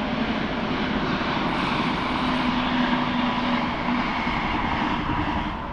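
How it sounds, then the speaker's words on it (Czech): A passing train by a fishing spot in stormy weather gives a steady, loud, broadband rumble that holds evenly from start to finish with no talk over it. "Zrovna tady projel vlak."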